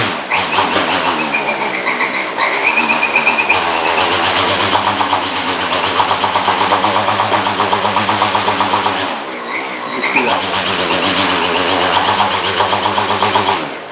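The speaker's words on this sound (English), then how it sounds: "That is full throttle from 0 to full." An unmanned aircraft motor driven by a KDE electronic speed controller spins up to full throttle, a loud, steady electric whine and hum that dips briefly around the middle before surging back to full speed.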